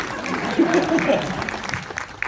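Audience applause at a talk with an Ayurvedic expert, a moderate burst of clapping from a crowd over a couple of seconds, with a voice audible over it.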